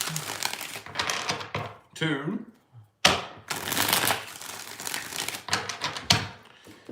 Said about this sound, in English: let's get 3 shuffles here